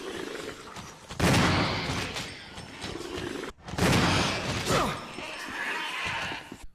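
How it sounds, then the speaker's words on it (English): Shotgun blasts fired at a hunter creature in the Resident Evil REmake, two loud booming shots a couple of seconds apart, each with a long crashing tail, amid a constant background ambience. "let's see if there's a damage difference between this shotgun and the regular shotgun when tested on a hunter"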